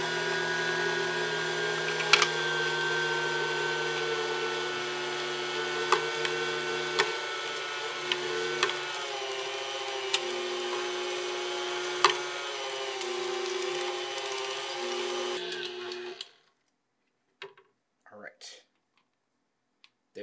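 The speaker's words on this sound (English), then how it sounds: "So I'm going to run it one time through the coarse grind." A meat grinder runs beef through a coarse grind, a loud continuous motor whine with small knocks and clicks, lasting about sixteen seconds before cutting off, followed by brief handling noises.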